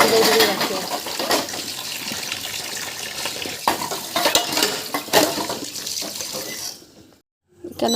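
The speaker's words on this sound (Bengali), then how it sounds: "আমি বাসন খালি আনি বেসিনের মাঝে রাখি" Dishes and cutlery clatter into a sink basin in a home kitchen, with close, sharp clinks and knocks over running tap water, ending in a brief silence.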